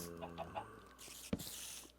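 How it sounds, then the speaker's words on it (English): A chicken clucks a few times in the blocky world of Minecraft, short pecking notes close by in a cave setting, followed by a sharp thud and low ambient game noise. "There's a chicken."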